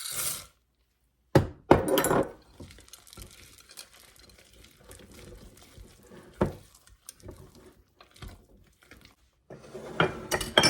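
Chopped pecans and chocolate chips are stirred into banana bread batter in a bowl, with irregular clinks and scrapes of a utensil against the bowl and quiet gaps between strokes.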